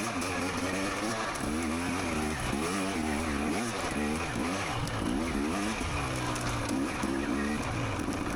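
A dirt bike engine pulls up a hill in first gear during a harescramble race, a loud, steady buzzing drone with wavering pitch as the throttle rises and eases, running continuously close by.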